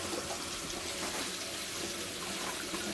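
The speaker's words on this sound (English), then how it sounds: "So Bailey, turn on the tap water." Hot tap water runs from a faucet in a steady, loud, continuous rush that fills the whole stretch, with no voices.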